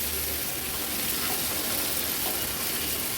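Clams sizzle and sputter as they are sautéed over a high flame in Agri-Koli style, a steady broadband frying hiss that stays loud and even throughout with faint stirring underneath.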